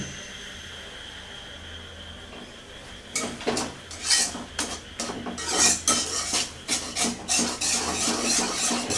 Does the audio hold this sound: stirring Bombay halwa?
yes